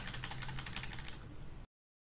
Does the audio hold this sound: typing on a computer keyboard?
yes